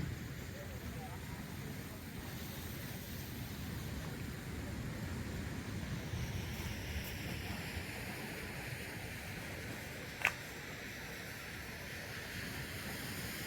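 Fast-flowing water rushes steadily at Dantiwada dam in Banaskantha, Gujarat, a continuous broadband roar that stays even and fairly distant, with a single brief sharp sound near the end.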